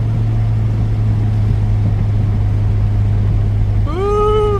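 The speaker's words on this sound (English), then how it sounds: "There it is, VTEC." An 8th-generation Honda Civic engine revving up into VTEC on a hill drive, steady engine drone under road noise, then a sharp rising higher-pitched whine near the end as the revs climb.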